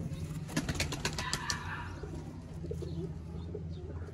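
Parlour pigeons in a breeder loft give soft cooing with a few wing flaps and shuffling, fairly close, over a steady low background hum.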